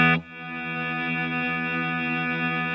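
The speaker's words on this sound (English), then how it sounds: "sometimes you can hear it get glitchy and a bit rhythmical if you do it precisely at the wrong time" A TC Electronic Infinite sample sustainer pedal holds a guitar note as a steady, dense, effected drone after a sharp initial attack, with a faint rhythmic flutter running through the sustained tone.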